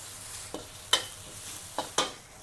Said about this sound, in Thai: แล้วก็ผัดให้พริกกับกระเทียมค่ะเหลืองหอมเลย